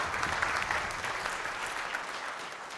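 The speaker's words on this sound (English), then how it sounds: "another big round of applause for the venue" Audience applause fills a live silver band concert in a community hall, a steady dense wash of clapping at moderate level that tapers slightly toward the end.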